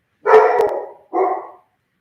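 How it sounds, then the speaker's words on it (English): A dog barks loudly and close by, two sharp barks in quick succession followed by silence. "Damn, my dog getting mad at me."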